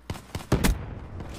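Gunfire in the Black Ops III multiplayer game: a few separate sharp shots, then a louder close double crack with a short tail, all within a second and a half.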